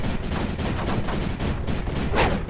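Turrets and mortars fire in the Space Crew video game: a dense, continuous rattle of rapid shots, loud and close, with a brighter burst near the end.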